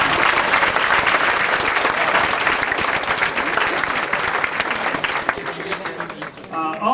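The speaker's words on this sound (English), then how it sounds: "So please give them a round of applause." An audience at a 2003 toy collectors' convention gives a loud, sustained round of applause that tapers near the end as a voice starts to speak.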